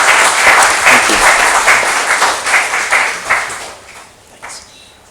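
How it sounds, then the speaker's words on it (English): Close, lively applause from a lecture audience at ICT Mumbai after a technical talk, a burst of many hands that holds steady, then thins out and fades to a few last claps. "Let us give a big applause to you."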